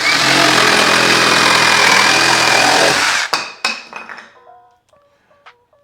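A VEVOR reciprocating saw cuts through a workpiece with a loud, close, buzzing rattle, then stops abruptly and is followed by several clunks and knocks as the piece settles.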